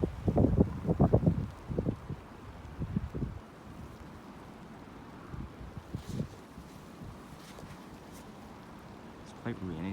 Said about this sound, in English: You can see it's getting quite windy now.